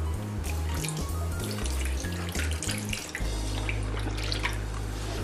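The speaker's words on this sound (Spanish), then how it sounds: "le voy a poner también un poquito de agua" Water is poured into a pot while mac and cheese cooks, a continuous splashing pour over a loud low hum from the kitchen.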